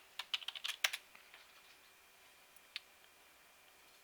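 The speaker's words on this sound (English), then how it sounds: "So I will type in mine" Login details typed on a computer keyboard: a quick run of close, crisp key clicks in the first second, then a single isolated tap, with quiet room tone otherwise.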